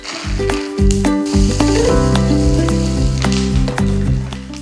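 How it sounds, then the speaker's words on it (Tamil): Peanuts sizzling and frying in hot oil after mustard seeds and urad dal have spluttered, for a temple-style tamarind rice; a loud, continuous crackling sizzle with pops, close up. "கடுகு பொரிஞ்சதுக்கப்புறம் நம்ம எடுத்து வச்சுருக்கிற நிலக்கடலையை சேர்த்துக்கலாம்"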